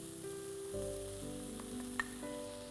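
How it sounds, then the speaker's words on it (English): Mushrooms go into a pan of sizzling capsicum for Burmese khow suey, a soft steady sizzle under a low hum, with one brief clink partway through. "So the capsicum's fairly cooked and I'm just going to add the mushrooms"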